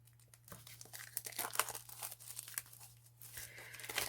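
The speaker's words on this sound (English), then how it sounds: "when you receive them, they have a plastic film over them, and you just want to remove that plastic film" Plastic film peeled off a Stampin' Up ink pad, quiet close-up crinkling and tearing in short bursts, with brief pauses between pulls and a low steady hum beneath, no speech.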